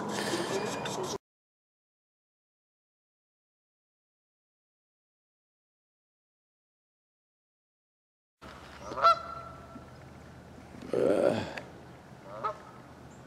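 Geese at a park raising a fuss near a bush, honking loudly in a few close, sharp bursts after a long silent gap, with faint background noise between calls.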